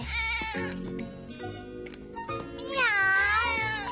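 Repeated cat-like meows, some drawn-out and wavering, with a long high mewing call near the end; sounds like a cartoonish or voiced imitation mixed with music.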